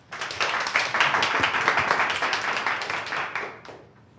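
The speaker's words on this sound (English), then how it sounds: "Okay, round of applause." A seated audience at a startup storytelling session gives a round of applause, brisk close clapping from many hands that holds steady and then fades out near the end.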